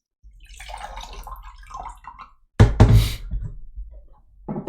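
Water pours into a glass or container in one loud, close burst lasting about a second. Quieter handling noises come before it and a short knock follows.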